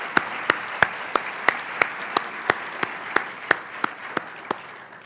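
Applause for contemporary gospel singers at a Dr. Martin Luther King Jr. celebration, a steady crowd wash punctuated by one loud, evenly spaced clap repeating about three times a second close by, no talk.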